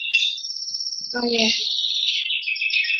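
Small birds chirp and whistle continuously in a home setting during an online class call, bright high calls repeating without pause, with a voice briefly speaking over them partway through.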